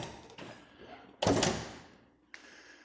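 A front door of a newly built house swings open with a loud thunk and a rushing sweep, followed by a softer click, heard close and alone.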